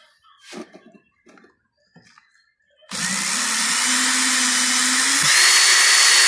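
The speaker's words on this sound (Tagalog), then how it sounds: "Tapos, drill lang natin." A power drill starts up and runs steadily and loudly for several seconds, drilling into a plastic fan guard holder during a repair, with a pitch change near the end; brief handling knocks come before it.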